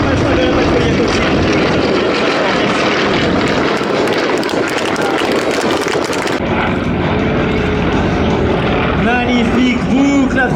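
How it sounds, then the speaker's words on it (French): Several propeller-driven aircraft fly a loop in formation at an airshow, engines droning loud and close throughout, the pitch shifting and fading slightly as the planes pass over. "Magnifique boucle à 3 avions qui se suivent."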